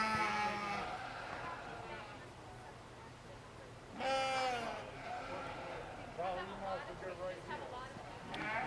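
A ewe lamb bleats at a livestock show, several wavering calls spread through the clip, the loudest in the middle, against busy arena background noise.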